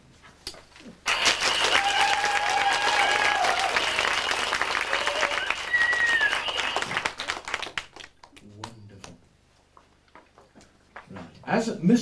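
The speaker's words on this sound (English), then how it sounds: "we want you to applaud wildly and don't stop until you're cued" A studio audience, told to keep going until cued, breaks into loud, sustained applause that runs for several seconds before fading into scattered sounds.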